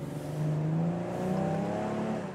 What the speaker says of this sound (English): Shifting down.